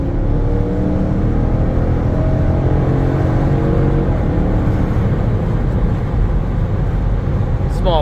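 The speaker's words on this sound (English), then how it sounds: "Do a little quick pull for you guys." Dodge Durango RT Hemi pulling hard under acceleration, a loud sustained engine roar with rising tone and wind rumble heard from inside the cabin.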